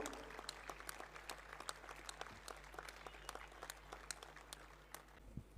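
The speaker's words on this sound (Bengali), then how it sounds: "সকলকে করতালি দেওয়ার জন্য অনুরোধ করব" An audience at a state award ceremony honouring cricketer Richa Ghosh bursts into sustained applause, with dense clapping and a few louder individual claps throughout, heard slightly distant over a low hum.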